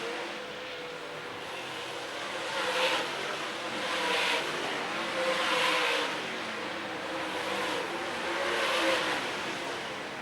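Dirt track race cars roar around an oval during a heat race, their engines rising and falling in repeated surges as they pass, with a steady crowd-and-track wash underneath and no talk.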